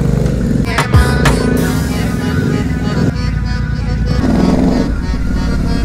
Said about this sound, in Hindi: Now it's the turn to ride the GT, no no ride the super meteor.